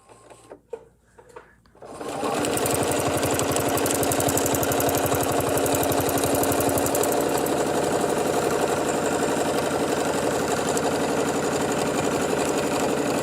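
A sewing machine stitches steadily around a Christmas motif, starting after a couple of seconds of quiet handling noises and then running at an even, continuous pace close to the microphone.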